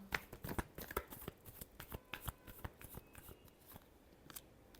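Tarot cards being shuffled in a steady run of quick, crisp riffling snaps and flutters, close and fairly quiet, with no voice over them.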